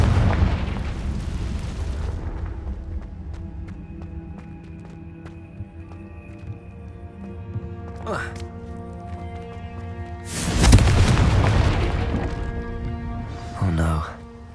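A Confringo spell explodes in the video game Hogwarts Legacy. Two heavy booming blasts sound over a low ambient game soundtrack, each followed by rumbling debris, with a spoken voice also present.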